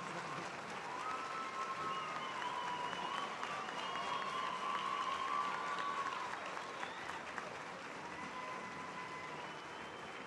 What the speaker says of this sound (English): Let's give Robin another round of applause